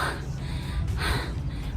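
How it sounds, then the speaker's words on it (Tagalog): Heavy, breathy panting from a woman pausing partway through a long jump rope workout, continuous and close with quick ragged breaths. "Hinihingal pa lang ako."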